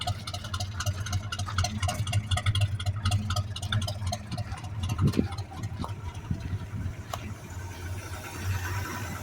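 A 1973 Chevy C10 pickup engine idles steadily in cold weather, a continuous low rumble with a faint mechanical ticking on top, close by and with no talking.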